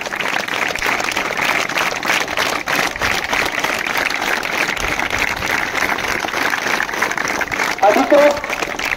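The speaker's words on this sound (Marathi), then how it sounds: "टाळ्या बंद करू नका।" Sustained crowd applause fills the air at the opening of a girls' school taluka-level kabaddi tournament, a steady dense wash of many hands clapping at once, with voices mixed in underneath and a brief louder burst near the end.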